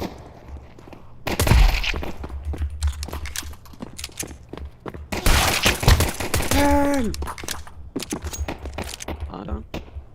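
Gunfire in the Counter-Strike video game comes in two loud, rapid bursts of sharp shots, with scattered single cracks and clinking between them and people talking throughout.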